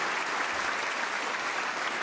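Audience at a Basketball Hall of Fame enshrinement applauding steadily, a dense, even wash of many hands clapping without a break.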